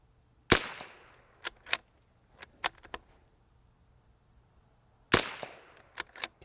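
Rimfire rifle shots fired with CCI standard velocity ammunition, two sharp cracks about five seconds apart, each followed by softer clicks of the bolt being worked, heard close in a quiet setting.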